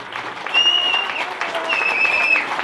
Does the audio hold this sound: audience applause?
yes